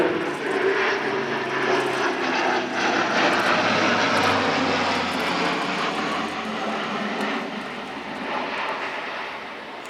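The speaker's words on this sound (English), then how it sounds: "Now accelerating in for a pass designed to simulate a visual check of a simulated drop zone at a speed up to 285 knots." A German Air Force Airbus A400M turboprop airlifter accelerating into a low display pass at an airshow, its propeller engines making a loud, continuous roar that holds steady and eases slightly toward the end.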